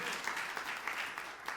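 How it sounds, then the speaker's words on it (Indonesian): Church congregation applauding during a sermon, a warm, rhythmic wash of many hands clapping in a large hall, steady and fairly loud. "Tepuk tangan yang meriah untuk kemuliaan nama Tuhan."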